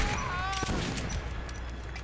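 Shotgun blasts from both barrels in the video game Metro 2033, loud booming gunfire running through a dense, busy game soundscape with other shots and noise.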